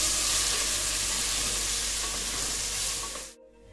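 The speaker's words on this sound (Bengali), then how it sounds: "আমি আঁচটা কমিয়ে সব সবজি একটুখানি মশলার সঙ্গে নেড়ে নেব" Vegetables sizzle steadily in hot oil with spices while being stirred for a fish curry, a loud, dense frying hiss that cuts off abruptly near the end.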